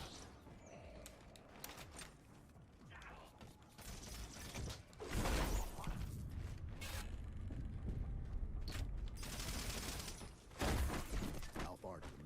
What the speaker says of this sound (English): the plasma pistol, it sounds like I'm shooting a pop gun